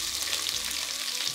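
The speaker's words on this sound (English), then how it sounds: "Okay, so now we're gonna add some onion here." Half an onion hits a hot pan and starts frying, giving a steady, close sizzle with a faint stirring scrape that runs without pause for the whole moment, with no talking.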